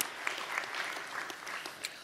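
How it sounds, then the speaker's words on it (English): A lecture audience applauds the sponsors, fairly faint, steady clapping from a room of listeners over about two seconds, with a couple of sharper claps standing out. "let's give them a round of applause."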